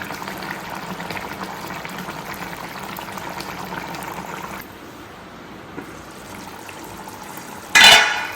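Mutton curry bubbles in a covered pot with a steady, close simmering hiss that quiets partway through, then a short loud burst of bubbling or lid noise near the end.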